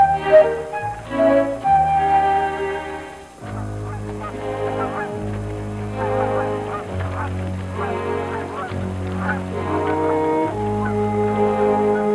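A half-grown Arctic goose honks loudly and close by, repeating in a steady series of nasal calls with little pause, the honking carrying on alone for the whole stretch.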